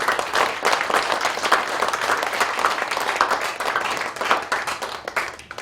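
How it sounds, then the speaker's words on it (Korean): A church congregation claps in dense, lively applause that stays loud and steady for several seconds before tapering off near the end. "우리 하나님께 영광의 박수를 드립니다"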